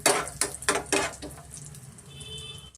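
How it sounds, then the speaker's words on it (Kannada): Raisins go into a pan of frying almonds, giving a few sharp clattering hits of metal and food against the pan, then a quieter settling sizzle. "ದ್ರಾಕ್ಷಿ ಸೇರಿಸ್ಕೊಳ್ಳೋಣ"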